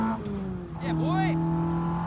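A Ford race car downshifts on track at Mallory Park during Ford Fest, its engine note sweeping down then climbing again in a brief, close burst, with a voice blending in.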